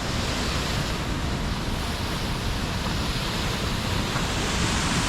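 Rushing water from a waterfall in a Northern Wisconsin park, a steady, dense broadband roar that holds constant and close throughout with no voices.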